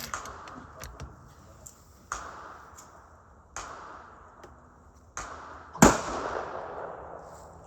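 Rifle fire from a Tikka rifle at a whitetail: several sharp cracks spaced a second or two apart, each trailing off, with the loudest shot near the end, all fairly distant and faint.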